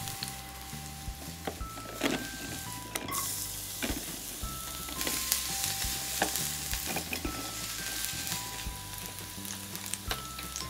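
Food sizzles steadily on a grill in a Paw Patrol cartoon, with a soft continuous frying hiss, scattered clinks and scrapes from turning, and light musical tones underneath.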